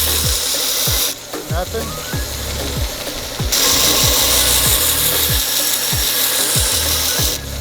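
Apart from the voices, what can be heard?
knife being sharpened on a sharpener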